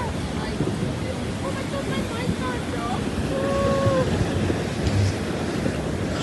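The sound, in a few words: ocean waves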